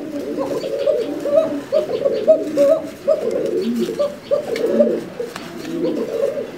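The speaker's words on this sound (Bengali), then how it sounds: "সেই কোকা যে ভাই, ডাক তো থামায় না।" Koka pigeons coo continuously and close by, several birds overlapping in repeated rolling low calls with soft rhythmic phrasing and no pauses.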